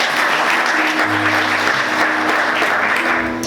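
A church congregation at a Sunday morning service claps continuously, dense and loud throughout, with a faint tone humming underneath.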